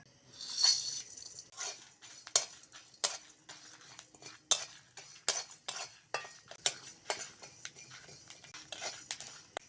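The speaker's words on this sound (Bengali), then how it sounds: "প্রথমে গোটা মশলা ভেজে নেব" A metal spoon scrapes and taps against a dry pan again and again, quick irregular clinks over near silence as whole spices are roasted and stirred.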